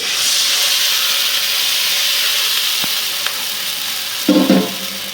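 Water poured onto frying onions in a pan for a river-fish and taro curry, giving a steady loud sizzle and hiss with a brief sputtering burst near the end.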